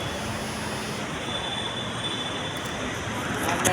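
A metro train rumbles steadily into a station, with a faint high wheel squeal over the continuous low roar.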